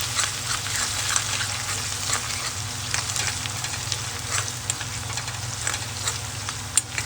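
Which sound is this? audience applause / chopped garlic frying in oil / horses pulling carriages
chopped garlic frying in oil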